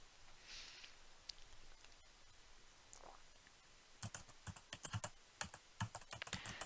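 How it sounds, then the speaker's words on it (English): Computer keyboard typing in Steins;Gate 0 comes in quick irregular clusters of crisp key clicks that start after a few seconds of quiet room tone and play close and distinct, with no talk over them. "then started typing something into the keyboard"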